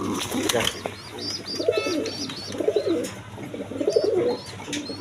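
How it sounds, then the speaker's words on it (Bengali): A pair of Mokkhi pigeons coos close by in repeated soft rolling calls, with lighter chirps above and a low hum underneath. "এখানে এক পেয়ার মক্ষী কবুতর আছে"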